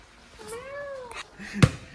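A person imitates a cat with a single rising-then-falling meow near the mic, followed by a sharp knock and faint background noise.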